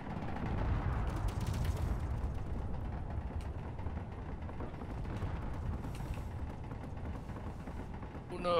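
Space Engineers space battle, with a dense, continuous rumble of gunfire and rocket impacts rolling on without pause, fairly quiet overall and with no clear speech over it.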